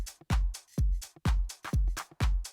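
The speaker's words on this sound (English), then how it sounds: "and then I have two drum loops" A drum loop for minimal deep house plays: a punchy kick hits about every quarter second in a steady pattern, each followed by a bright open hi-hat wash, clean and loud.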